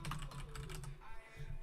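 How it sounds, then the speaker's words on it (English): Quick keystrokes on a computer keyboard, close but fairly quiet, tapping steadily for a moment against a muffled background hum. "My typing's still pretty good."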